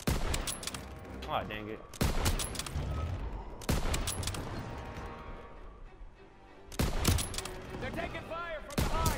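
Heavy bursts of gunfire ring out in the Call of Duty: WWII campaign, loud volleys at several points with echoing tails, while a voice speaks briefly between shots.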